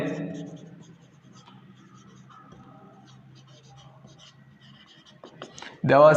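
Pen scratching out a maths problem by hand on paper, soft short strokes in irregular bursts close by, with a voice speaking at the very start and end.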